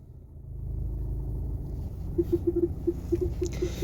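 An automatic car rolling forward in D, a steady low engine and road rumble throughout with a few light ticking or tapping sounds near the end, close and moderately loud.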